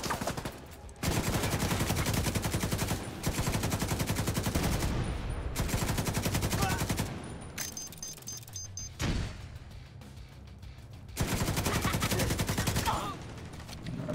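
A video game turret firing in long, rapid machine-gun bursts, loud and close, broken by short pauses and quieter stretches of gameplay noise.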